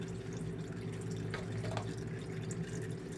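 Fluid drains from a 2009 Honda Rancher 420 ATV after its filter is pulled, giving a soft, continuous trickle with a few drips over a low hum, nearby and with no talking.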